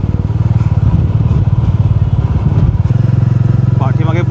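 A motorbike carrying a rider and a passenger runs along a seaside road near Murud Janjira fort, its engine a steady, close, throbbing drone throughout, with a voice rising briefly near the end.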